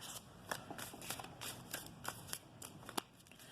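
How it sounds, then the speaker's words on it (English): Oracle cards being shuffled by hand, a quick run of crisp riffling flicks and soft card slaps, close and clear with no talking. "let's take some of these oracle cards"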